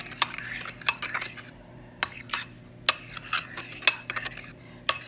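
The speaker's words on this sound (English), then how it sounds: "So we're going to stir this up." A metal spoon stirring a peppery dish in a home kitchen, sharp clinks against the bowl or pot at irregular intervals over a soft scraping rub, close and alone.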